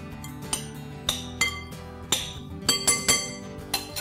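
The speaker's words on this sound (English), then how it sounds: "I'm going to put in a tablespoon of sugar into the strawberries. Toss it around a bit." Strawberries and sugar get tossed in a glass bowl with a utensil, giving a series of bright clinks and taps against the glass, irregularly spaced and close, with no talking.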